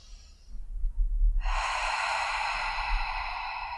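A long, deep exhale out through the mouth during a relaxing yin yoga session, starting with a brief inhale and then a steady breathy rush of air lasting a couple of seconds, close and fairly loud with no talking.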